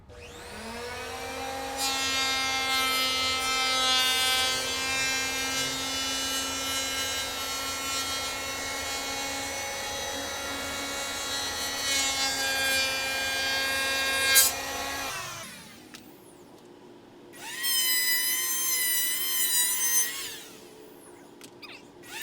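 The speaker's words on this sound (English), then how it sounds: "that's why I'm going to use the planer" An electric hand planer shaving boards for a motorcycle-gear closet, running loud and close with a steady high whine for about fifteen seconds, then cutting out before a second, shorter pass.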